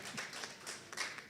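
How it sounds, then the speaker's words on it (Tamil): Audience applause at a PenPal league and Tamil association gathering in Bahrain, a quiet, steady patter of many hands clapping together, heard from a distance at low level with no voices over it. "ஒரு பலத்த கைத்தட்டல் கொடுத்து விடலாம்"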